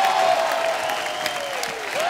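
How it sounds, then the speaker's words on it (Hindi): A television studio audience applauds a superstar guest's grand entrance with a steady wash of clapping that holds evenly throughout. "एक बार जोरदार तालियां अजय सर के लिए।"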